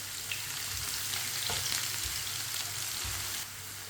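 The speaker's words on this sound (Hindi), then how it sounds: "प्याज को इसी तरह चम्मच चलाते हुए ब्राउन करना है।" Finely chopped onion frying in oil for chana dal, a close, steady sizzle with soft scraping as a spoon keeps stirring it around the pan, no voices.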